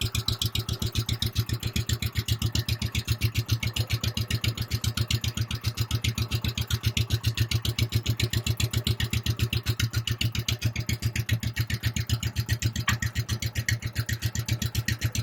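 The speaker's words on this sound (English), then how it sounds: "Always like to start it and show a little bit what this Kohler engine can still sound like" The Kohler engine of a 1966 Arctic Cat Panther snowmobile idles at low RPM, with a steady, even putter of rapid regular pulses running without break, close and alone.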